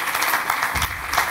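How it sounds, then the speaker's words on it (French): An audience at a conference session on mobility-as-a-service bursts into brief applause, a short dense patter of many hands clapping at moderate loudness. "Un tonnerre d'applaudissements, s'il vous plaît."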